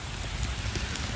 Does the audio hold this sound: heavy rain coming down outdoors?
yes